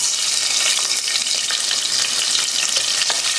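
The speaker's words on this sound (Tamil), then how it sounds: "வெங்காயம் நல்லா பிரவுன் கலர்ல வரணும் அது வரைக்கும் நல்லா வதக்கிக்கோங்க" Sliced onions frying in a pan give a dense, steady sizzle with faint scraping as they are stirred, close and continuous.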